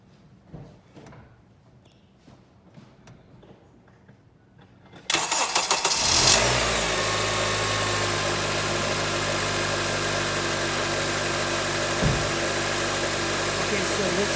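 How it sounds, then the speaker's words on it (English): An Acura TSX engine cranks and catches after a newly replaced idler pulley and belt tensioner, then settles into a steady, loud idle that continues to the end; faint handling noises come before the start. "Now I'm gonna turn on the car, and hopefully it'll run well."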